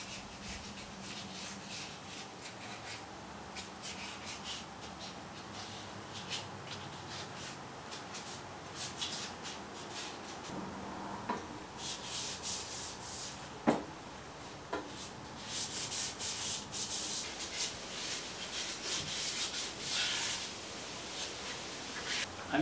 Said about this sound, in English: let's sand all the pieces we have. We'll wet sand today